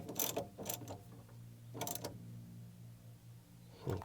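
A ratchet clicks in short bursts while tightening a new RV battery terminal on a Coachman 260 DS, with a faint steady hum underneath; quiet and close.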